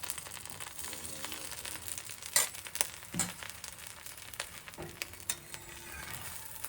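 Bread topped with egg masala fries in oil in a pan with a soft, continuous sizzle. Sharp scraping clicks and taps from a spatula cut through the quiet frying now and then.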